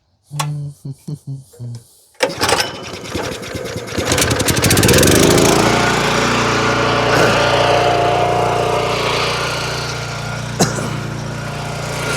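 A few short mechanical knocks, then the small engine of a hydraulic log splitter starts and runs steadily and loudly for the rest, with a couple of sharp clanks near the end.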